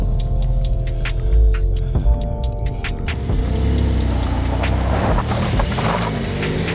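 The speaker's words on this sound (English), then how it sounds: "A chance to sit inside the Sport Classic while it was moving." A Porsche 992 Sport Classic heard from inside while it drives on a wet road: a loud, steady engine drone and throb that shifts in pitch partway through, with no talking.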